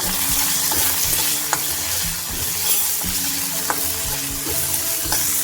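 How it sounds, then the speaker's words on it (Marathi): Green chillies roast in a pan with potatoes while being stirred, a close, steady frying sizzle with regular scraping strokes and faint taps of a spoon against the pan. "त्याच्यामध्ये मिरची भाजून घेऊया."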